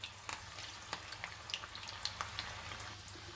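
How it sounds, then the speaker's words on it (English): Mutyas, flour dumplings, frying gently in oil over a low flame, a faint soft sizzle with scattered small pops and crackles, close up and without talk. "We're starting to fry the mutyas now."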